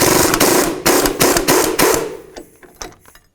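A socket and wrench work loose the hub mounting bolts on a 2001-2007 Volvo V70, giving a series of sharp metallic clanks and knocks close by, then quieter scattered taps as the work eases off.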